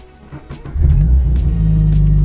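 A supercharged car engine cranks and catches on a cold start, then settles into a loud, steady low rumble with a brief rev partway through.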